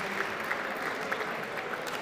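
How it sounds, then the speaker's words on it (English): At the UNSW Canberra Warman engineering competition, an audience gives a round of applause for team Mo's Bros, with moderate, steady clapping with a few sharper claps standing out. "give him a round of applause"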